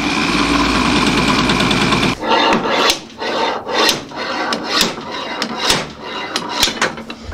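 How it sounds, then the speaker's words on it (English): A drill bites into the torsion bar of a 1967 VW Bus, a steady grinding whine at first, then rough rasping bursts as the bit catches and scrapes metal, close and loud. "I started to drill into the torsion bar"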